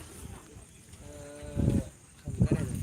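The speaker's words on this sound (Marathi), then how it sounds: "अजून एक उंच असा सर्वेष्टीचा बैल नंदी आपल्यासमोर आहे" A tall bull lets out a couple of deep, drawn-out calls close by at a village fairground, over a background of outdoor crowd noise.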